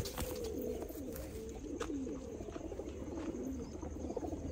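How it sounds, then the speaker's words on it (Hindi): Pigeons coo softly nearby, low repeated throaty calls rising and falling over a faint background hum. "देखिए ये कबूतर"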